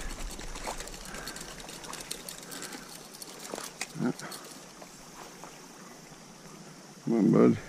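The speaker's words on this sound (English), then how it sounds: "There's a brook." A Wisconsin trout stream flows in a steady, soft, broadband rush with faint trickling throughout, while brief close handling noises and a short voiced sound rise above it near the end.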